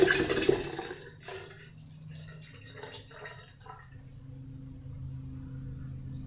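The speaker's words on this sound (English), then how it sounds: "now I've got to add water up to the" Cold water poured into a still spirits wash to top it up, a gurgling, splashing pour that starts strong and then eases into a quieter steady trickle.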